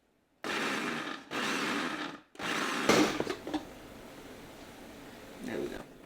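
A food processor on its salsa dice-and-chop setting whirs loudly in several short bursts, cutting out between runs. A few clatters follow before the motor trails off, and quieter background noise continues under it.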